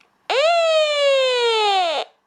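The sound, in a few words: weather alert radio siren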